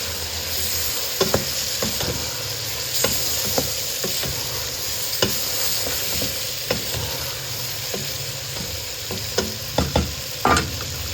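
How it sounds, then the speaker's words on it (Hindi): Spices frying in oil in a pan for black chana, a steady close sizzle broken by repeated scraping stirs and clinks throughout, with no talking. "और इसको हम अच्छे से भूनेंगे इस मसालों के साथ ताकि ऑयल में मसाला जो है ना अच्छे से भुन जाए"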